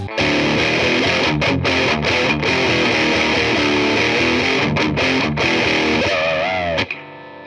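Electric guitar played through a DOD 250 overdrive pedal set to straight distortion, fitted with a swapped op amp chip; a loud, dense sustained distorted riff with brief gaps, ending in a held bending note that cuts off abruptly.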